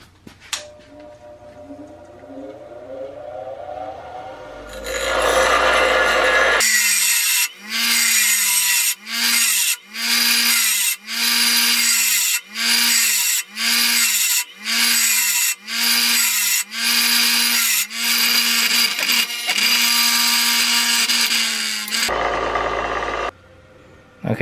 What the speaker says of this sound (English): I'm gonna take it on my bench grinder and grind it a millimeter